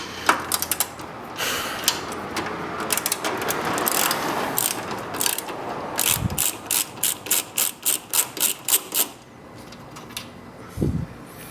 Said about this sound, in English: You're going to need a 10mm socket and a ratchet to get those loose